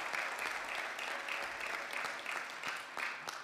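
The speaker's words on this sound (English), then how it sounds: "Give God a hand clap of praise this morning" A church congregation claps in praise during a morning worship service, a full, steady round of applause with a rhythmic pulse of hand claps and faint crowd murmur.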